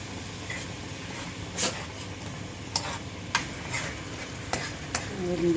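Tripe frying in a pan with vinegar and tomato paste, a soft steady sizzle under repeated scraping and clinking as a spoon stirs, with several distinct clicks of metal against the pot.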